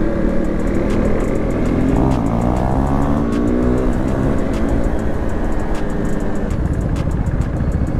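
Royal Enfield Continental GT 650 fitted with an SS Motocorp aftermarket exhaust revs hard at night, its loud throaty engine climbing and dropping in repeated close bursts before a drag race.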